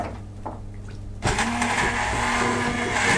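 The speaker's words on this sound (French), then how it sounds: "Et là, je vais mixer ma sauce." A blender kicks on abruptly after a second of quiet, whirring loudly and steadily as it purees a soy sauce mixture with onions for salmon, its motor hum and churning liquid filling the rest.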